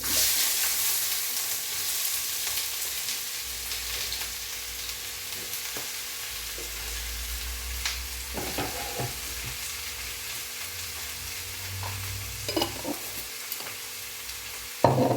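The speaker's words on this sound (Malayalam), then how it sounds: "ഇഞ്ചി വെളുത്തുള്ളി ഒരു പച്ചമുളക് സവാള കണ്ട അതെല്ലാം കൂടെ ഇട്ട്" Ginger, garlic, green chilli and onion fry in a pan with a steady close sizzle, broken by a few stirring clinks and scrapes, and no voices.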